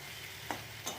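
Bengali fish curry masala of tomato, black cumin, ginger and garlic paste frying in a pan, a faint steady sizzle with two brief stir clinks, close but quiet, no speech.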